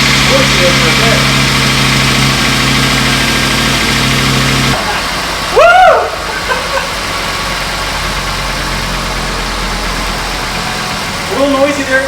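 A 1980 VW Rabbit pickup with a swapped 2.5L five-cylinder engine runs steadily at idle, a low continuous rumble throughout, with a brief cheer partway through and a short voice near the end.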